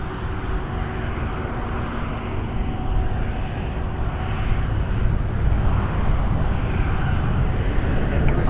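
An Air Canada Boeing 777-300 arriving from Heathrow lands at Toronto Pearson, heard as a loud, continuous jet roar that swells slightly over several seconds, with no talk.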